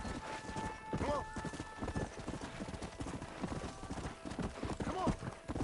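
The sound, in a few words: horse trotting in video game Red Dead Redemption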